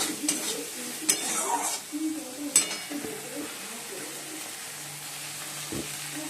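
Masala fries in a pan as yogurt is added. A low sizzle runs under a few clattering stirring knocks and spoon scrapes in the first seconds, then settles into a quieter steady fry with one late bump, close by.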